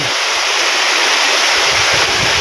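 Very heavy rain falls on a farm, a loud, unbroken wash of hissing noise close by, steady throughout with no voices.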